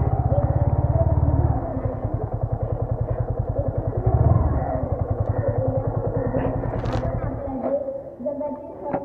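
A motorcycle engine idles and putters close by as the bike is parked at a school on Republic Day, a steady rhythmic thrum with a few clunks, while people talk nearby.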